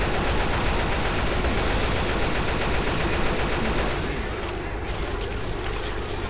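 Dense, rapid gunfire from weapons in the zombie shooter Left 4 Dead, a loud, unbroken barrage of shots that thins slightly toward the end.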